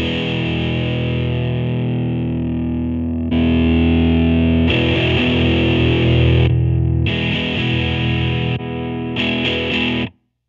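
Distorted electric guitar sustains through a Pilot Wave effects pedal as presets are switched, the tone abruptly changing character several times with modulated, chorus-like textures between steady held sections before cutting off at the end.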